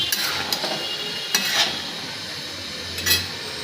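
Pieces of bhola fish coated in arrowroot batter frying for chilli fish, a steady crackling sizzle from the pan broken by a few brief bursts of stirring and scraping.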